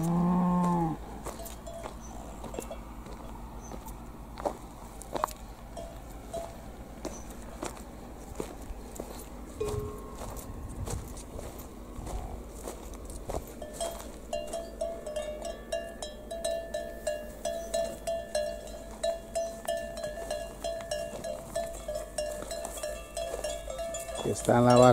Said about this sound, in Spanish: Las vacas esperan.